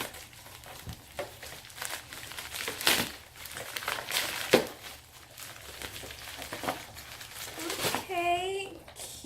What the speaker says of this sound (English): Let's rip this bad boy